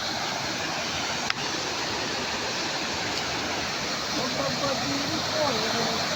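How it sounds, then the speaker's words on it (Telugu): A forest waterfall in Mulugu district during the rainy season pours in a steady, even roar of rushing water that fills the scene, with one brief knock partway through. "చాలా ట్రబుల్స్ పడ్డాక ఒక వాటర్ ఫాల్స్ని మేము చేరుకోవడం జరిగింది"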